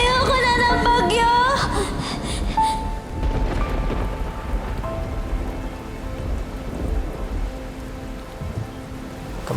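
Heavy rain pours steadily during a storm as thunder rumbles low and rolling throughout. Crying and voices sound at the start before the rain and thunder carry on alone.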